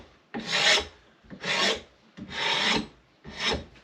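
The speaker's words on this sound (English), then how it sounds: "I like to sand my handles as smooth as possible" A wooden axe handle is being sanded smooth on a belt sander, giving four rasping passes of about a second each, separated by short pauses. The passes are close and fairly loud, with no voices.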